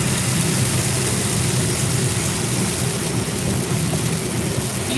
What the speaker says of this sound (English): that's starting to rain again, y'all. Pour down the rain,